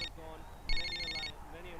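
A cordless telephone rings indoors in two short electronic bursts, the second longer, moderately loud with voices talking around it.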